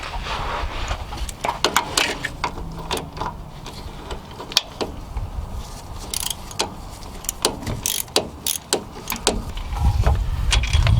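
A socket wrench works loose the top compressor bolt on a fifth-generation Nissan Maxima with a VQ35DE engine, using a deep 14mm socket on an extension. Irregular metallic clicks, ratcheting and clanks sound close up, with no talking.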